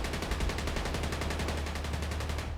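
Rapid automatic gunfire in the video game S.T.A.L.K.E.R. 2, a fast unbroken burst of evenly spaced shots, loud and close throughout.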